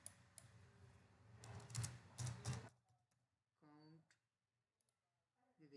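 Quick bursts of computer mouse clicks come in a short cluster while someone works through an Excel spreadsheet, close and crisp. A person talks quietly in the quieter stretch after the clicks.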